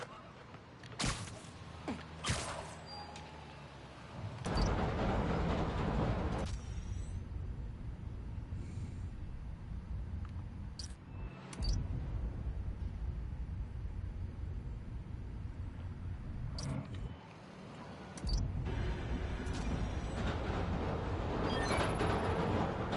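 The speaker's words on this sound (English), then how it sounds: "Yeah, subway comes up over there." A subway train in the Spider-Man: Miles Morales video game rumbles and roars past for most of the stretch, loud and sustained with brief dips, amid other game ambience.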